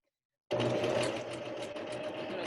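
A sewing machine stitches a fabric face mask, starting abruptly and running as one steady, close, continuous whir with no talking.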